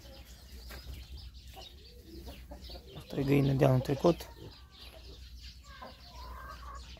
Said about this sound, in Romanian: aici avem și cocoș și găină New Hampshire, găină americană